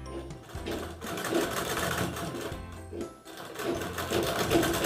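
Sewing machine stitching frill lace onto the edge of a blouse, a close, steady mechanical whirr in rapid bursts with short pauses between runs.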